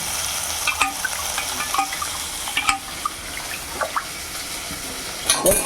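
Green chilies sizzling in hot oil for tempering a Tamil tamarind curry with dried fish, a steady close crackle and fizz broken by the scraping and clinking of a stirring spoon; no talking.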